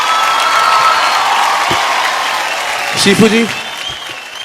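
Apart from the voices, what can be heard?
audience applause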